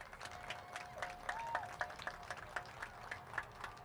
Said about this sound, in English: Can you give a round of applause for 22 years?